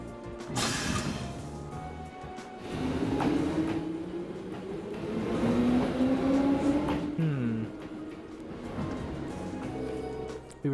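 A train from the video game The Legend of Heroes: Trails of Cold Steel, giving a steady rolling rumble with rising and falling tonal whines across the whole stretch, heard alone without talk.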